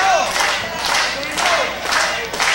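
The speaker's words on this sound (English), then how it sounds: "Crowd here coming up for Chet Sterling, one of the most popular wrestlers in the sportatorium" A wrestling crowd in an arena roars and cheers for a popular wrestler, a loud sustained swell of voices with surging shouts.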